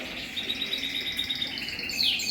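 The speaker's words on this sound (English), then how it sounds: "So that's all my canaries" Canaries in a moulting aviary chirp and trill continuously, several birds overlapping in bright, fairly close song at a soft overall level, with no talking.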